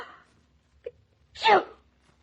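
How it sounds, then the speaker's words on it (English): A single sharp sneeze from a woman in a 1948 radio comedy about catching a cold, bursting out loud after a brief faint vocal sound and a short pause. "you sneezed"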